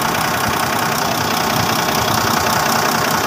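An engine runs steadily with an overhauled torque converter and automatic transmission, a loud continuous idling rumble with a knocking mechanical texture and no talk over it.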